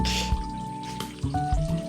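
Water overflows from a water source behind a house in Maragusan, running and dripping with splashy trickles and intermittent drops close by.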